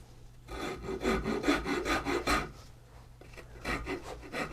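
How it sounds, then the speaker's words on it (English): Rasp filing down a wooden guitar neck near the first fret, a series of rhythmic scraping strokes close up, about a dozen back-and-forth passes with a short pause before the last few, no voices. "take a file or a rasp, like one of these"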